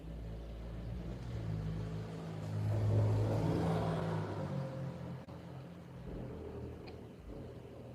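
A car engine drones and swells into a louder rev around the middle, a steady rumbling hum that settles back to a lower idle, heard at moderate distance without talk.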